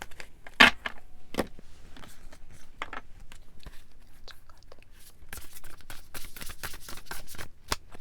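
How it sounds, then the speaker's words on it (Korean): Tarot cards are shuffled and drawn by hand, soft papery riffles and taps scattered through quiet, faint and close, with one sharper snap near the start. "예언자 카드 뽑아볼게요"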